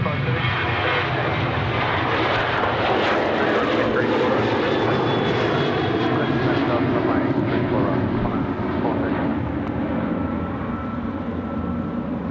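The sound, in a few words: Velocity 737 jet taking off on runway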